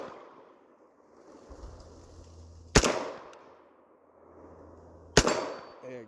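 Two sharp, loud shots from a Ruger P90DC .45 pistol fired at a target ring out a couple of seconds apart outdoors, each with a brief echoing tail over quiet background hum.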